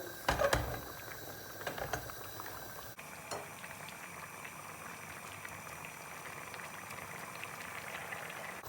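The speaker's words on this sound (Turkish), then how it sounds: "Bu şekilde kaynadığını göreceğiz arkadaşlar. Yemeğimiz kaynıyor." Chicken and bulgur simmering in a pan on the stove, steady bubbling, a soft continuous seething with a few light clinks and splashes near the start.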